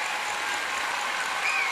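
An arena audience gives a standing ovation at a rhythmic gymnastics world cup event, a dense, steady wash of applause heard at a distance, unbroken and even, with a faint whistle near the end.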